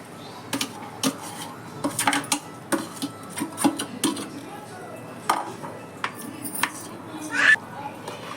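Coconut filling being stirred into hot sugar syrup in a pan for coconut laddus, giving irregular scraping and clinking knocks of a utensil against the pan, fairly close, with quiet background sounds between strokes.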